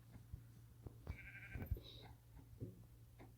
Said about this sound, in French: Le beau mouton, le mouton.